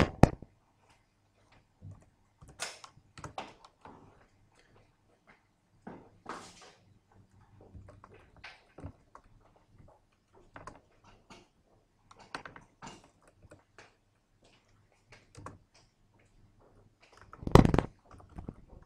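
Sparse, irregular clicks of a computer keyboard being typed on nearby, short bursts of keystrokes separated by quiet pauses, with a louder clatter near the end.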